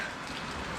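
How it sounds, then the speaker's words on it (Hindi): Steady rain falls in Kashmir, a dense, even patter of drops hitting surfaces, close and continuous with no voices. "And it's still raining but we are on it"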